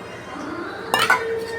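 A spoon clinks and scrapes against a cooking pot while okra sambar is stirred, a brief close metallic clatter over a quiet kitchen background.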